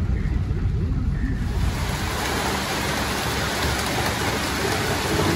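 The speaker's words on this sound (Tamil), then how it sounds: "மழை எப்படி பெய்யுது பாருங்கள்" Heavy rain pours in Kochi, a dense, loud, continuous roar of water drumming on surfaces that builds and holds steady with no voices.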